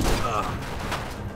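Rapid submachine gun fire in the action game Stranglehold comes as a dense, steady burst lasting about a second, fairly loud and continuous.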